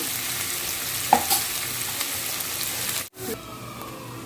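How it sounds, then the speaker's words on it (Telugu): Yam pieces frying in oil until light golden, a steady close sizzle with a couple of soft stirring knocks and a brief dip near the end. "కొంచెం లైట్గా గోల్డ్ కలర్ వచ్చేలాగా జస్ట్ ఫ్రై చేసుకుంటాం."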